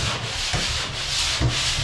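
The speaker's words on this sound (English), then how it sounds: "when you want a big straight line, the pole sander is best" A pole sander scrapes across drywall in long, rhythmic strokes, a broad gritty hiss swelling and easing about three times in under two seconds, close and steady with no voices.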